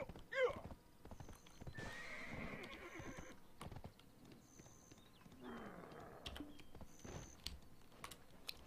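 In the online game Black Desert Online, a horse clip-clops and neighs twice with loud, drawn-out whinnies. Steady hoof clatter, computer keyboard clicks and small chime-like game tones sound alongside.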